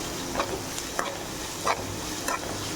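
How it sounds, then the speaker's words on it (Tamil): A gravy base lightly sautéing in oil for egg rice, giving a steady close sizzle broken by four evenly spaced scrapes of a spoon against the pan, with nobody talking. "ரொம்ப வதக்க வேண்டாம், சும்மா லைட்டாக வதக்கினா போதும்."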